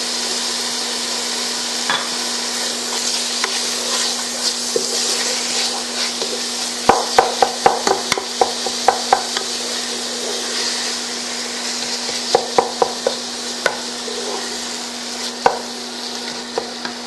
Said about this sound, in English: Now I'm going to begin adding first the garam masala,